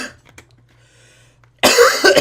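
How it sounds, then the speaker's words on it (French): A man coughs in a short loud burst near the end, after a quiet stretch with only faint low hum. "j'ai envie de tousser"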